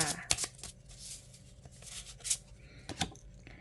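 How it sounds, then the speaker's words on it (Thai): Tarot cards are shuffled by hand during a pick-a-card reading, repeated quick riffling bursts and soft slaps close up, with someone speaking quietly over them. "เดี๋ยวเราจะมาสลับไพ่กันค่ะ"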